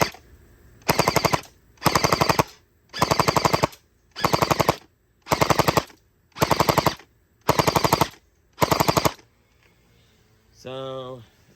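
An AC5000 blaster fires rounds during FPS testing: eight evenly spaced rapid bursts, each about half a second, loud and close. A brief voice follows near the end.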